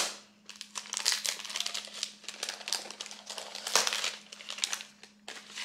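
Wrapping paper on a Christmas Eve gift crinkles and crumples in repeated close bursts as it is unwrapped by hand, with brief pauses between handfuls.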